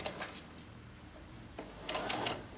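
Sewing machine fitted with a zipper foot stitching a knit skirt right alongside a ridge of elastic, a soft, steady mechanical whir at close range with a few brief louder clicks near the end.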